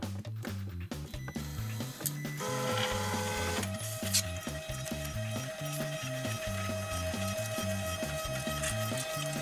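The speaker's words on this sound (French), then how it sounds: "L'imprimante se met en marche." A Dagoma DiscoEasy 200 3D printer starting up for its first run, with steady rhythmic stepper-motor whirring and buzzing, a brief clatter of mechanical movement, then a continuous tonal motor hum, close and alone.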